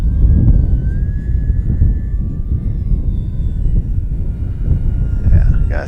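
An FMS Kingfisher RC model plane flies in gusty wind, a low, rumbling motor drone mixed with wind buffeting the microphone, steady throughout at moderate distance, while someone talks over it.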